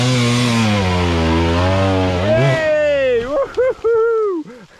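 A rebuilt 2017 KTM 300 dirt bike engine revs hard and high on a rocky climb, a loud sustained two-stroke wail that rises in pitch, then breaks into short choppy blips near the end, with voices mixed in.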